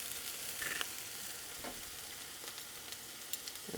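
Garlic sautéing in a pan, a soft, fairly faint sizzle with a few light scattered stirring clicks and scrapes.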